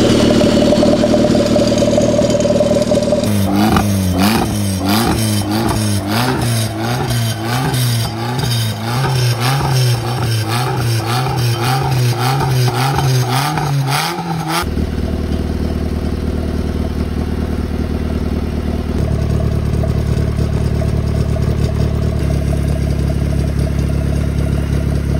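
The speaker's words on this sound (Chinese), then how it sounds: "可以看到发动机启动比较顺利，加速也正常，然后怠速也稳定" A bare car engine mounted on a stand, off the vehicle, runs with a pulsing, revving tone as it accelerates, then drops abruptly into a steady, lower idle that continues to the end, loud and close with no talk.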